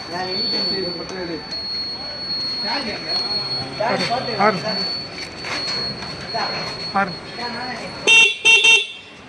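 An extra horn added to a motorbike honks a few times in quick bursts near the end, after stretches of talking and background noise.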